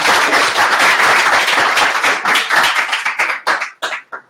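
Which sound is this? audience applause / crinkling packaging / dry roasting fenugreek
audience applause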